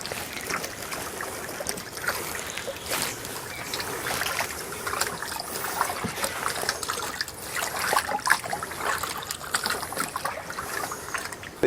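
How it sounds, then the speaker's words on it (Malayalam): Cow dung mixed with water pours into a tank on a wild turmeric farm, a close, steady trickling and sloshing of thick liquid that continues for over ten seconds. "ഈ ചാണകം നമുക്ക് നമ്മുടെ ഈ ടാങ്കിലേക്ക് ഒഴിക്കാം"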